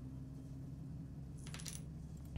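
Coins drop as change in the OMSI 2 bus simulator, a brief bright metallic clatter over a steady low engine hum inside the bus.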